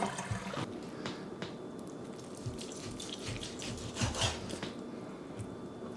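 Cold tap water runs steadily over beef brisket in a strainer, a continuous close hiss with small splashes and uneven spatter.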